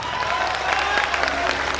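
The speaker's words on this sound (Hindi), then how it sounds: "बहुत तालियां कमजोर हैं, इतनी तालियां कमजोर रहेंगी तो कैसे काम।" An audience at a stage event in India claps in a dense, steady wash of applause, moderately loud and continuous with no pauses.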